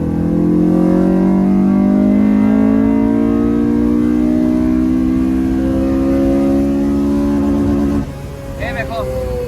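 A car engine revs hard in second gear, its steady drone climbing in pitch for about eight seconds before the rev limiter cuts in and the note abruptly drops away.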